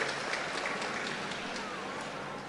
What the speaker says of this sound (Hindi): जोरदार ताली बजा करके सबका एक साथ अभिनंदन कर दो।